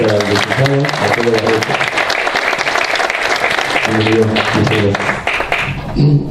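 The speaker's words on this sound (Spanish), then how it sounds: "Un fuerte aplauso, por favor, para el licenciado Arturo" Strong audience applause at an evening coaching and leadership event, continuous clapping throughout, with a voice speaking over it at several points.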